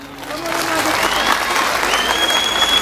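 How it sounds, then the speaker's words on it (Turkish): Steady, dense applause from a sizeable audience at a live Turkish folk music concert, loud and sustained throughout with faint overlapping voices and a whistle-like tone mixed in. "Bu alkış az geldi Tüle."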